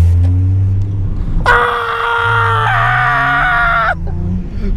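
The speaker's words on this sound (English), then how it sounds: "People love it when you just randomly scream." A loud, sustained scream rings out close by for a couple of seconds over a low rumble of traffic.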